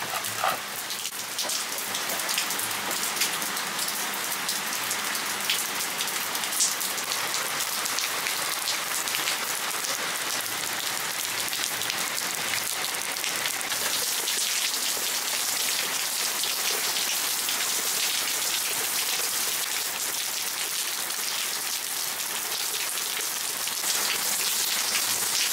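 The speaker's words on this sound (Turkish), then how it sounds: "Hepsi oturdu yağmur izliyor" Steady rain falls on a forest at a village in İzmir during a stormy day, a dense continuous hiss of drops on leaves and surfaces, close and even throughout with no voices.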